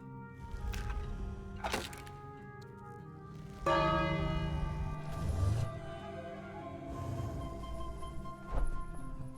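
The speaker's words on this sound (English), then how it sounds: "So if we ring that bell..." A bell rings in the King's Quest video game. Several deep, resonant strikes ring out and hum on over a murky game background, with one louder clang near the middle.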